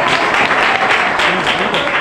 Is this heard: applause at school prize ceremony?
yes